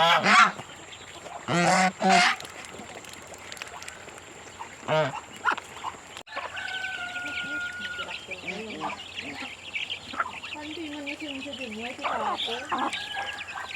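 Loud honking and quacking calls from ducks come in short bursts, followed by a steady chorus of clucking and chattering chickens nearby.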